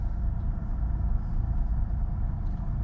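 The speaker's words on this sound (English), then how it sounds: "The truck is running like crap." A truck engine runs rough inside a shop, a low, uneven rumble that holds steady at moderate volume for a few seconds, with no one speaking.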